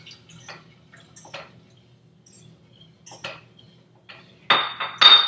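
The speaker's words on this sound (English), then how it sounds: "I'm just gonna pour this in as I stir." Almond milk is poured into a bowl while being stirred: light clinks and drips of a utensil against the bowl, then two louder splashy bursts of pouring near the end, with no talk.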